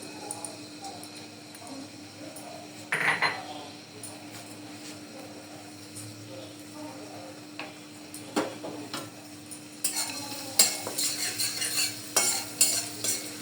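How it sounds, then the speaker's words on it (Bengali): Chopped ginger and garlic frying in hot oil crackle quietly up close, with occasional utensil knocks and a busier burst of sizzling and stirring toward the end. "আদা কুচি রসুন কুচিটা আমি একটু লাল লাল করে একটু ভেজে নেব।"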